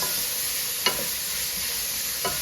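Calaloo is stirred in a pot over a steady simmering sizzle, two short scraping strokes of the spoon standing out, no one speaking.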